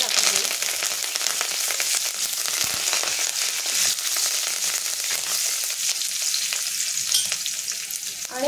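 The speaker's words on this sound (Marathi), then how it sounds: "तेल चांगलं गरम झालं की त्याच्यामध्ये आपण मोहरी टाकून घेऊयात, मिरची आणि हिंग टाकायचे" Mustard seeds, chili, asafoetida and curry leaves sizzle steadily in hot oil, a close, bright crackling hiss with small pops that holds throughout.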